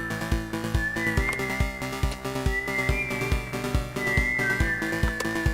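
A cowboy character whistling a melodic tune in the video game Moonlight Peaks, bright sustained whistled notes over a steady rhythmic backing beat with plucked accents, loud and continuous.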